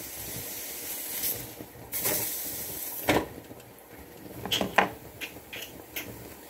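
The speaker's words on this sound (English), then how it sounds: "Sizzle, sizzle, sizzle." A burger sizzles and hisses in a frying pan, with a steady crackling spray broken by sharper pops and spatters, close and moderately loud.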